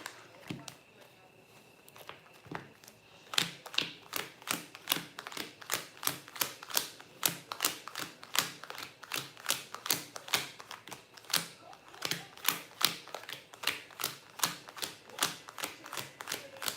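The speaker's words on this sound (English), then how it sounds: "Let me shuffle out the cards." Tarot cards being shuffled in a quick run of crisp riffling snaps, rhythmic and close, starting sparse and becoming steady and continuous.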